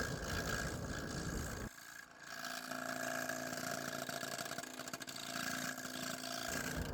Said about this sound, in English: You can hear a lot of chatter going on as I get toward the middle of that stick.